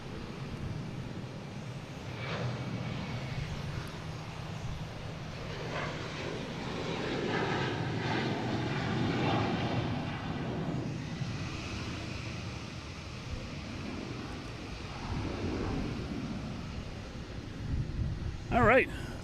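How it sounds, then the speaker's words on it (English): JetBlue Airbus A321 jet airliner at Boston Logan: a moderate engine roar swells and fades over the span, with a voice talking over it. "we have a JetBlue heading to LAX and A321"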